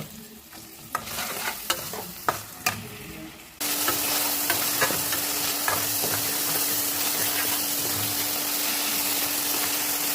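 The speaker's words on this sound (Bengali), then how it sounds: "টমেটোগুলোকে একটু হাতা দিয়ে প্রেস করে নেব যাতে নরম হয়" Chopped tomatoes frying for Darjeeling-style thukpa while a ladle presses them: a few sharp taps at first, then a loud, constant close sizzle with faint scraping through to the end.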